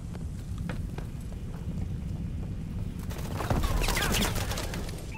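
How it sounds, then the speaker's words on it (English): A bombing run in Call of Duty: Advanced Warfare, a dense rolling barrage of explosions and crackling blasts building over steady low battlefield rumble, loud and sustained. "Friendly bombing run clearing the way."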